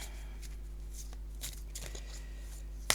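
Oracle cards being shuffled by hand during a tarot and oracle reading, a soft continuous papery riffle with a few sharper flicks and a crisp snap near the end, close and quiet over a low steady hum.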